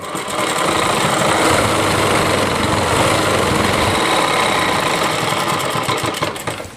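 Sewing machine stitching a heavy-work Rajputi lehenga, running loud and steady at close range with a fast, even mechanical whir for nearly seven seconds before slowing at the end, no talking.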